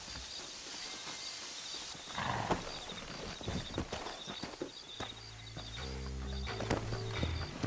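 Horses in the Wild West video game Red Dead Redemption, hooves clip-clopping over ground with snorts and whinny-like calls amid gunfight ambience and rumbling game sounds.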